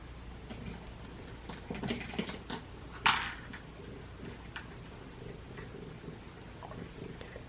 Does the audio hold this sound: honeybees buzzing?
no